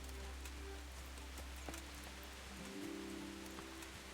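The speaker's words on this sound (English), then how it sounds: "And of course it's starting to rain." Steady hiss of rainfall in Kingdom Come: Deliverance, continuous and even, with a low droning hum and soft tonal sounds underneath.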